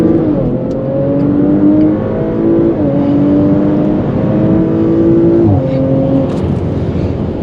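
A 2019 Audi RS5 accelerating hard during a race, its engine rising in pitch through repeated gear changes, loud and close from inside the car.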